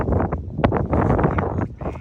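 Wind gusting outdoors near Bell Rock in Sedona, a broad steady rush buffeting the microphone for the whole stretch with brief stronger puffs.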